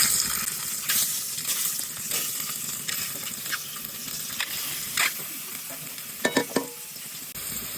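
Eggs with turmeric sizzle steadily in a frying pan, a dense, continuous crackle joined by a few sharp stirring clicks toward the end.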